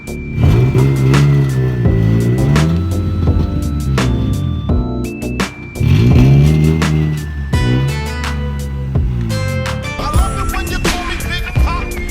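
A stanced car being driven out of a garage, its engine revving in rising and falling sweeps that swell and fade repeatedly, loud and close, with other tonal sound running over it.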